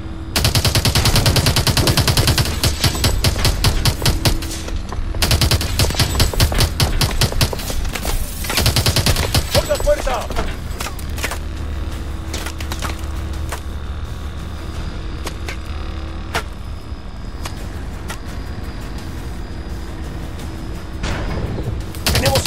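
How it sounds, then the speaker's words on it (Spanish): Rapid bursts of automatic gunfire from a Call of Duty Advanced Warfare firefight, dense and loud through the first half, then sparser shots with a low rumble, a shouted voice cutting in briefly. "disparos desde la izquierda!"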